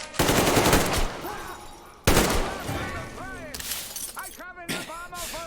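Heavy automatic gunfire from a firefight in Metro Exodus, loud bursts with sharp broadband cracks, pausing and resuming, while several voices shout over the shooting.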